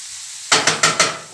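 Finely chopped onions sizzling in a pan and stirred, four quick scraping strokes in a row over a steady hiss, close and loud.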